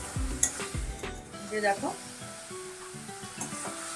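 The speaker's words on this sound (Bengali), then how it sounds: "এই যে দেখো মশলাগুলো আমি ভালো করে কষিয়ে নেব।" Ground spices cooked down in a pan for an egg curry sizzle softly while a utensil scrapes and stirs, with a few light clinks against the pan, under a voice speaking.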